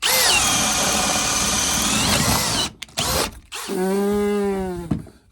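A power drill with a Bosch wood bit whirs steadily at full speed into wood, cuts out briefly, then spins up again with a rising whine before stopping.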